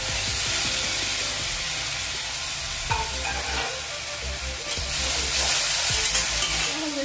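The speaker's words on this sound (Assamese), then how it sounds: "এতিয়া ভালদৰে লৰাই দিম বিলাহীখিনি দি দিলোঁ" Chopped tomatoes sizzling and frying in a pan with garlic and ginger, a dense continuous hiss broken by scraping stirs and a few clacks of the spoon against the pan, close and steady.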